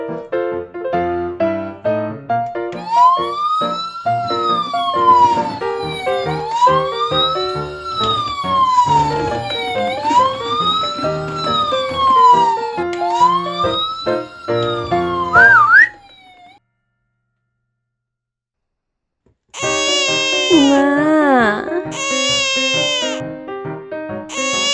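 A toy ambulance siren wails, sweeping up and down repeatedly, bright and toy-like, stops, then after a pause a different electronic siren tune plays.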